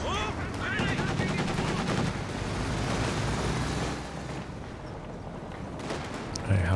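Dense machine gun fire and other gunfire from a Company of Heroes 2 real-time strategy battle, sustained and loud for most of the stretch with a busy mix of battle sounds underneath.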